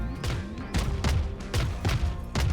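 Tejo's missile strike ability in the video game Valorant: a rapid series of loud, close booming blasts, about five impacts landing one after another in a steady rhythm with no voices.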